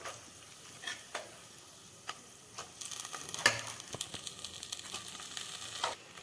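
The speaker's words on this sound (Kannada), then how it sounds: "ಈ ಒಗ್ಗರಣೆಗೀಗ ಏನು ಕುದಿಸಿಟ್ಕೊಂಡಿರ್ತೀವಲ್ಲ ಅದನ್ನು ಮಿಕ್ಸ್ ಮಾಡ್ಕೋಬೇಕು" Boiled ingredients for a North Karnataka gugri snack being stirred into a hot tempering of curry leaves, with a steady sizzle and scattered scraping stir clicks, close and moderately loud, no talking.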